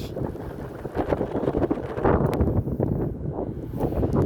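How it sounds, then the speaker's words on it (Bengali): Strong wind whooshes and buffets continuously across an open rooftop in a city during light drizzle, a broad, steady roar with gusty surges and no voices. "শো শো শব্দ হচ্ছে বাতাসে।"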